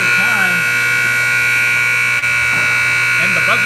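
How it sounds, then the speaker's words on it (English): A long, steady electronic buzzer blares continuously at an ice hockey game to end the period, loud and unbroken under faint arena noise. "And the buzzer goes"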